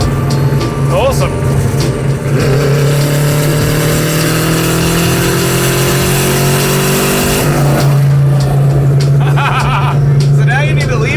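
A car engine pulls hard down the highway with open windows, its pitch climbing steadily through a long gear before a shift and another rise, loud and close, with voices briefly over it.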